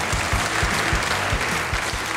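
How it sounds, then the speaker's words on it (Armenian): An audience claps loudly and steadily at a celebration marking an army anniversary, a dense wash of many hands with a few nearer claps standing out and no voices on top. "եկեք բարձր ծափարենք նրանց"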